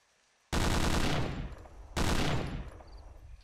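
Bren light machine gun in the video game Hidden & Dangerous 2 fires two loud, close bursts of rapid automatic fire, each about a second long with a fading tail, separated by a brief pause.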